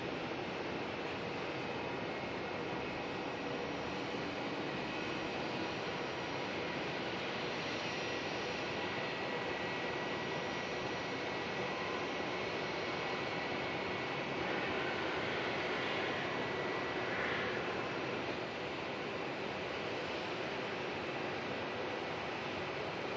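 Continuous broadband roar of aircraft engines at Melbourne Airport, attributed to Jetstar planes, a steady loud rumble with slight swells throughout and no talking.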